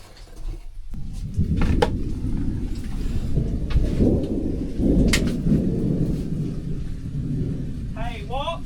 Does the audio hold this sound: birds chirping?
no